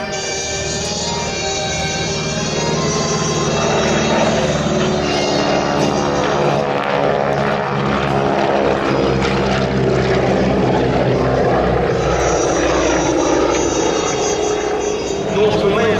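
A Norseman propeller aircraft flying at an air show gives a loud, steady engine drone that holds for the full stretch, with a commentator talking over it.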